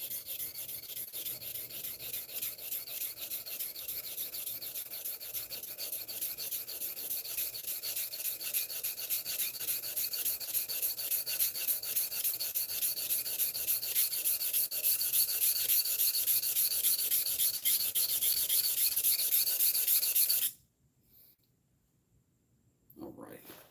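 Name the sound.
sharpening a Stanley No. 4 plane blade on 1000-grit stone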